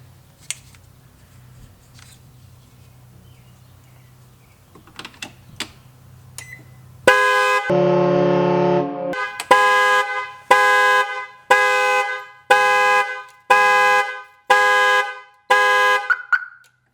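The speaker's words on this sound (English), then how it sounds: "I was not expecting the alarm to go off." After some quiet clicks and handling, a car alarm sounds while a portable jump starter is connected, first as one long steady horn blast and then as a run of loud, evenly spaced honks close by.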